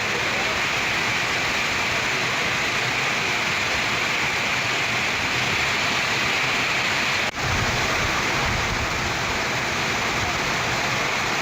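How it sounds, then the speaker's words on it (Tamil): Heavy night rain driven by wind pours down in a dense, steady roar that stays constant and loud throughout, with one brief dip partway through. "இரவில் திடீரென காற்றுடன் கூடிய கனமழை பெய்தது"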